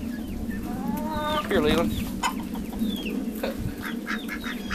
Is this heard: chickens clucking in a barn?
yes